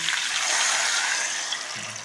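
Two cups of hot water poured onto browned meat in a pot, a steady hissing gush of splashing liquid for about two seconds, close and moderately loud with no talking.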